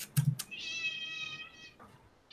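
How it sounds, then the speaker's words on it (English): A cat meows once in a long, drawn-out call, close and clear, preceded by a few soft taps and followed by a short second vocal sound. "let's throw it over to the cat."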